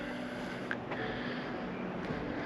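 Wind sweeps steadily across an open campsite at Great Salt Plains State Park, a faint, continuous rushing with occasional soft gusts and no voices.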